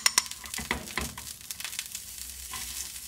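Butter and cooking oil sizzling in a pan as a spinach soup sauté begins, a steady close crackle with small pops and a few light clinks of a utensil.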